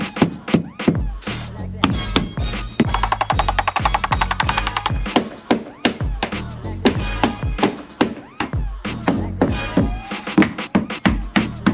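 Sharp hammer blows tap vinyl plank flooring into place in a van, striking repeatedly in an uneven rhythm, loud and close, with a rapid burst of quick taps in the middle.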